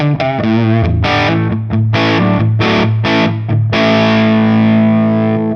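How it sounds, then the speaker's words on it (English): Distorted electric guitar through a Line 6 Helix Moon normal amp model with a Moon T75 4x12 cabinet at default settings, playing loud chopped chords and riffs, then ending on a ringing sustained chord. "So the Moon normal at sort of default settings sounds like this."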